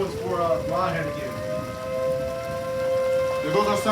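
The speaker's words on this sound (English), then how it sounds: "There goes our sirens again." Civil defense tornado warning sirens wail in long rising and falling tones during a thunderstorm, steady and fairly loud over a constant patter of rain, with people talking briefly.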